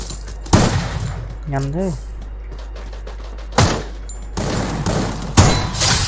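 Short bursts of rapid gunfire in the mobile shooter Free Fire played on a PC emulator, three or four sharp loud volleys separated by pauses, with a brief game sound and someone speaking in between.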